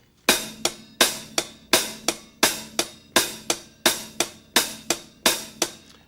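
A hi-hat plays steady eighth notes, alternating louder accented strikes on each beat with softer taps between, crisp and close with no voices.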